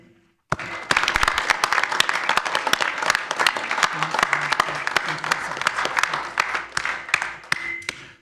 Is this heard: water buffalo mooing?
no